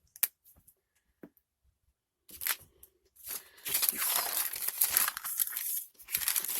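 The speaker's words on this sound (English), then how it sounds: "Let's open that paint paper up." Paint paper crinkles and rustles loudly as it is unfolded, after a few faint taps and rustles, building into a sustained crackling.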